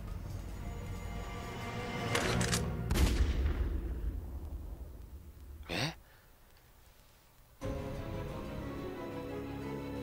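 A few sharp gunshots from the video game Resident Evil: Revelations crack out, spaced apart over a low rumbling background, with a quieter lull before the final blast.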